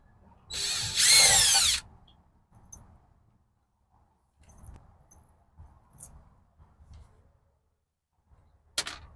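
A power drill with a magnetic tip drives a screw while fitting a keypad lock on a commercial glass door. One close whirring burst of about a second is followed by scattered handling clicks and light tool knocks.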